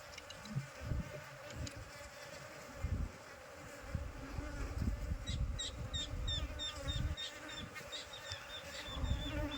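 Aggressive Apis cerana bees swarm and buzz while being smoked from their nest, a dense faint hum of many insects close by, with thumps and handling noise and high chirps from birds or insects.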